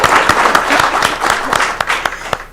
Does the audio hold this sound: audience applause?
yes